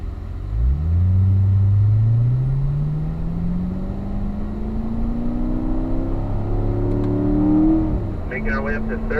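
A vehicle on a mountain road accelerates hard, engine pitch climbing steadily through the gears in long sweeps with a brief drop at each shift, loud and close throughout.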